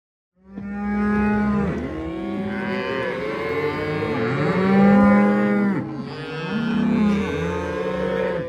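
Cattle on a desert ranch during spring cattle work, with cows being loaded for shipping, moo loudly and repeatedly. Several long, overlapping calls sound close by, steady and continuous throughout.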